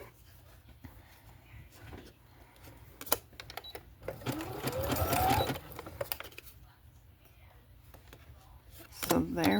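A sewing machine stitches a small fabric ruffle in short, rapid bursts, with pauses and handling noises between runs, while someone talks quietly over it.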